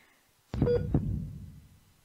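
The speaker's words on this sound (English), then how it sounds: "A giant heartbeat?" A single deep, booming heartbeat thud from a psychological horror indie game, two heavy beats close together that fade into a dark, resonant tail, with no talk.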